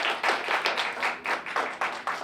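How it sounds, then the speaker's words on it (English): An audience at a student presentation event claps together, a short, fairly even run of rapid handclaps with a steady rhythm, moderately close and with no talk over it. "give them a big round of applause"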